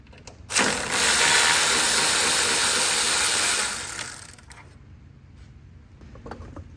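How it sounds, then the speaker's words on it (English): A ratchet spins a 10mm bolt loose in a steady buzzing burst of about three and a half seconds on a 1999–2007 GM full-size vehicle, then tails off into quiet handling sounds. "First thing I'm going to do is pop this 10mm bolt out right here."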